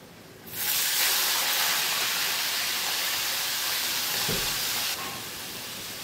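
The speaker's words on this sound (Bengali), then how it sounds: "তেল গরম হয়ে গেছে, দিয়ে দেবো চিংড়ি মাছ।" Prawns rubbed with salt and turmeric drop into hot oil, setting off a sudden loud, broad hiss that holds steady for several seconds, then eases slightly.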